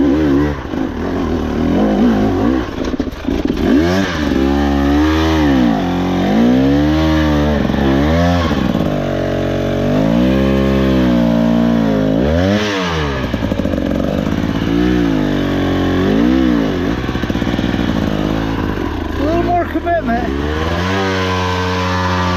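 A 2024 KTM 300XC-W two-stroke dirt bike with a TSP head and ECU tune revs hard while riding off-road, its pitch climbing and dropping continuously as the throttle is worked, loud and close throughout.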